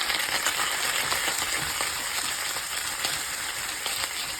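Vegetables frying in oil over high heat, a steady bright sizzle with small crackles and occasional stirring clicks, close and continuous.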